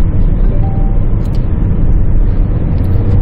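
A car fitted with an aftermarket racing-version intake part, minus its non-powered turbo, runs on a test drive, its engine drone and road rumble loud and steady throughout, with no voices.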